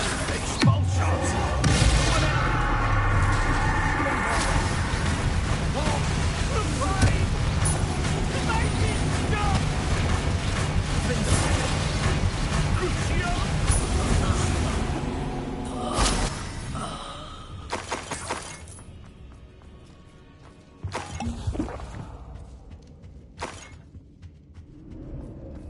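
Spell blasts in the game Hogwarts Legacy, including Expulso, Confringo and Bombarda, bursting loudly in a busy run of bangs and crackles that fades into sparse, separate hits near the end, with a voice calling out the spells.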